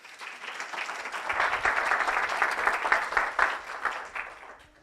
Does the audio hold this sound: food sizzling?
no